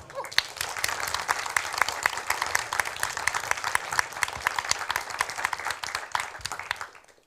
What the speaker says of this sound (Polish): żebyście Państwo oklaskami ich przywitali